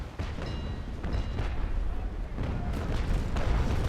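Ship cannons firing chain shot in the naval game Naval Action Legends, a broadside of heavy booms rolling one after another in a rumbling, uneven volley.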